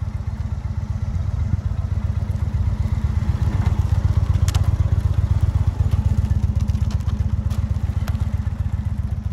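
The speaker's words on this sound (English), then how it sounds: "His motorcycle is huge" A large motorcycle engine runs steadily nearby during riding skills practice with bottles set up as markers, a throbbing low rumble holding constant, with a few light clinks over it.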